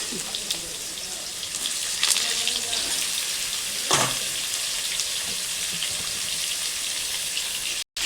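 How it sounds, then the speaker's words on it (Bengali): Potatoes and pointed gourd fry in a pan, giving a steady, close hiss of sizzling oil with a few faint scrapes and clinks, then a brief cut to silence at the end. "আমি আগে আলু পটলটা ভাজা বসিয়ে দিলাম"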